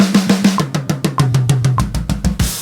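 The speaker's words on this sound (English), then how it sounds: "and that is 16th notes around the kit." A drummer plays rapid, even sixteenth notes moving around the toms, descending in pitch from high to low, ending with a cymbal crash.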